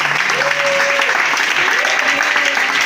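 A church congregation at a French-language Christian worship service claps and acclaims loudly, a sustained wash of applause with voices rising above it throughout.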